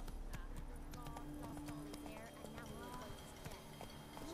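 Hoofbeats of a horse galloping in The Witcher 3 video game, a steady rapid clip-clop running throughout with a brief neigh, loud and close, with a voice urging the horse on.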